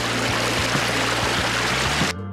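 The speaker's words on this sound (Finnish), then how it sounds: "Mä myös täytin mun vesipullon. Tässä on tällainen filtteri, ettei tuu pöpöjä." Water streams steadily into a water bottle through a portable filter beside a river on an off-trail hike in Malla Nature Park, a loud continuous close rush that cuts off abruptly at the end.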